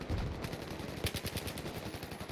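Gunfire from a weapon in Battlefield 3 rattles in quick automatic bursts. The rapid, fairly faint shots keep up a steady rhythm after one heavier opening burst.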